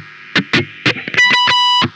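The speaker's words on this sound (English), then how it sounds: "when you kick on the distortion" Electric guitar through a distortion pedal, with a phase 90 also on, in a distorted, buzzy tone: a few short choppy stabs, then sustained ringing notes, loud and close, with no voices.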